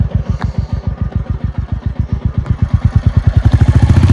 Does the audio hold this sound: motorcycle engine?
yes